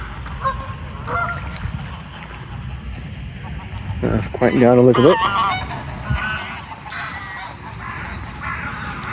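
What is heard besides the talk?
geese honking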